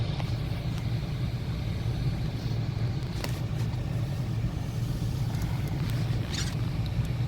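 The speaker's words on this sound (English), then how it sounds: "Sorry if it's a little loud. I'm in the car" Steady low engine and fan rumble inside a parked car with the heater running, a continuous drone that fills the cabin with no talk over it.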